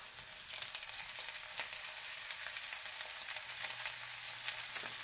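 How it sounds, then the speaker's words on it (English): Corn, onions and sausage sautéing in a pan give a quiet, continuous sizzling hiss with faint crackles throughout, steady and unbroken. "so I'm going to add the corn now"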